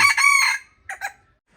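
A rooster crows close and loud, a strong harmonic call followed by a shorter second burst, then quiet.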